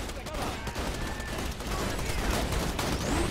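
Gunfire in the video game Borderlands 2, a dense, continuous rattle of shots and bursts heard throughout at steady loudness, with a few sharper impacts and a rising whine near the end.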